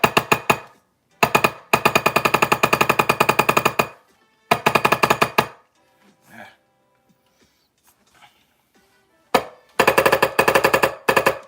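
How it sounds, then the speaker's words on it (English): Rapid automatic gunfire from a firearm fitted with a finished trigger rattles out in several loud bursts separated by quiet gaps, each a fast even string of sharp shots. "Let's go ahead and fire a couple shots through it."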